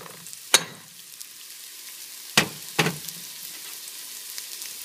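Half an onion frying in a tablespoon of olive oil, a low background sizzle broken by three sharp spatula scrapes and clatters against the pan.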